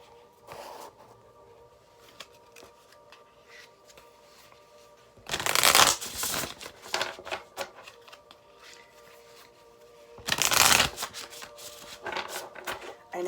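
Oracle cards are shuffled in two loud, brisk bursts, each a dense riffling flutter, with quieter handling and tapping sounds in between.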